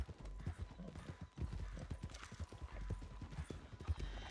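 Hooves of a ridden horse in Red Dead Redemption 2 thud in a quick, uneven rhythm, fairly close and moderately quiet over low rumbling game ambience.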